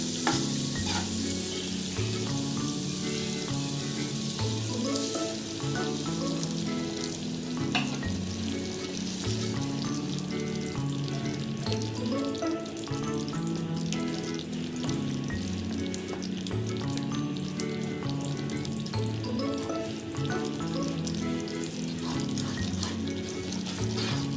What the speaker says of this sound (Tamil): இப்போ இது கூட 2 கப் அளவு சுடு தண்ணி ஊற்றிக்கலாம்.